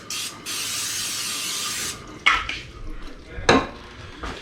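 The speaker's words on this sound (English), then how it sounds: "make sure you grease your pan. I'm using Pam here today." Pam cooking spray hisses steadily onto a pan for about two seconds, close and loud, followed by a few light clinks of cookware.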